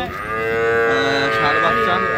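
A Sahiwal bull calf at a cattle market in Pabna district lets out one close, sustained moo lasting about two seconds.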